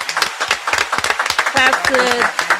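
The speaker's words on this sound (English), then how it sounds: "Claps to the GOAT." Hands clap in quick, irregular claps close by while a voice talks over them, with several people's speech mixed in throughout.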